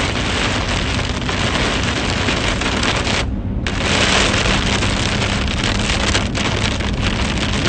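Heavy rain pounds a car driving through the core of a storm cell on a Western Massachusetts highway, a loud continuous roar with one brief lull before it surges back.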